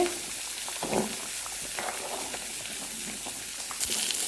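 Onions sautéing in a pan while sambar is being made, giving a steady, fairly loud sizzle and hiss throughout with a few scraping stirs, near and continuous, no talk.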